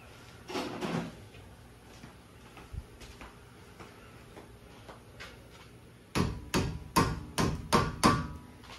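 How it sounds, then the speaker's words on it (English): A hammer strikes near an Audi A4 rear brake caliper and its e-brake cable: a few scattered knocks early on, then a quick run of six sharp metallic taps close by, with no talking. "Maybe we grab a hammer to help."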